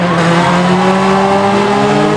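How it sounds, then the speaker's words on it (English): Old trash cars and vans race at a fairground demolition derby, with engines droning loud and steady and tires whining without a break. "Trash car racing had all sorts of old cars and vans make an appearance"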